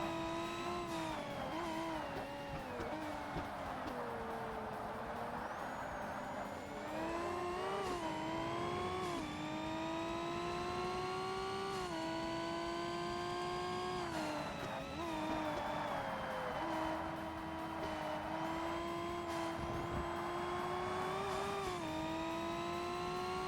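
A fully upgraded 1,000-horsepower car on racing slicks in the Forza Motorsport racing game snarls continuously, its engine pitch climbing and dropping through repeated gear changes, with brief tire squeal and another car's engine nearby.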